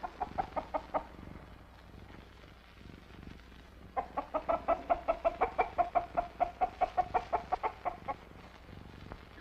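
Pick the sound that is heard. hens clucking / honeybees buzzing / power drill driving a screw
hens clucking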